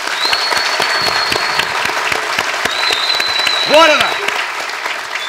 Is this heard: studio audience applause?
yes